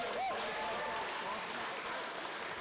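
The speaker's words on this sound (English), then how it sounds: "Give yourselves a round of applause." Live audience applauding at a recorded show in Raleigh, a dense, steady wash of clapping filling the room with some voices mixed in.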